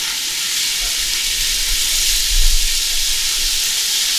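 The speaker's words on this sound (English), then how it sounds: "I'm gonna sear the meat" Well-marbled beef, about a pound, sears in olive oil in a pan for chili, a loud steady sizzle close up with a low rumbling swell midway and faint stirring; no speech.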